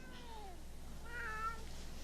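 A cat meows in a series of drawn-out, rising and falling cries, fairly close, with a steady low hum underneath in a quiet room.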